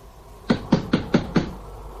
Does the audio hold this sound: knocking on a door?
yes